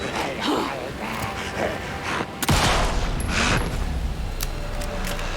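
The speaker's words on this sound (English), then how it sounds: "I've been thoroughly let down by this hunting rifle" Hunting rifle shots in Alan Wake 2, a dense game soundscape with a loud sharp crack near the middle and busy rumbling action around it, no talk.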